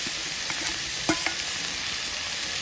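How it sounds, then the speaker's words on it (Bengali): Banana flower curry stirred in a pan with cumin paste and green chilli paste, a steady sizzling hiss under a few soft scrapes of a spoon, close and alone. "এবার একটু নেড়ে নেব।"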